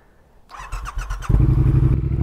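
A Triumph Speed Twin motorcycle on a test ride after an ECU flash with TuneECU starts up with a few sputtering pulses, then settles into a loud, close, steady engine rumble.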